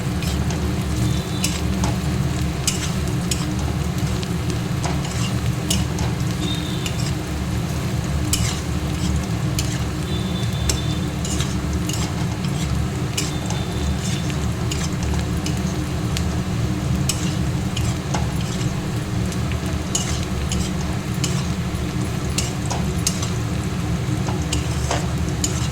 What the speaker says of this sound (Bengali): চিকেনটা চাপাবো